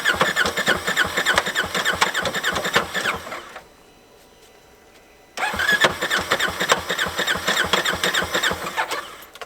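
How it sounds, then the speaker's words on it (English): Polaris RZR Turbo side-by-side with a suspected blown piston or rod cranks and starts, running loudly with a rough, knocking clunk, then cuts out for about two seconds before restarting and running rough again, with no talk. "Well, as you just heard, it's got a clunk."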